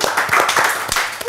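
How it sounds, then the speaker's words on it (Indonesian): Studio audience clapping, a brief burst of close, loud hand claps with uneven individual slaps across about a second. "Tepuk tangan ya, sekarang kan banyak tepuk tangan ya."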